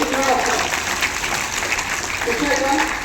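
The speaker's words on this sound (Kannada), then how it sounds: "ಚಪ್ಪಾಳೆ." A group claps in a dense, steady patter during a yoga session, the applause filling the clip with voices calling out over it.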